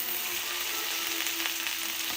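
Steak searing in a hot pan with its fat rendering down, a steady, dense sizzle that holds at an even level throughout, with no talk over it.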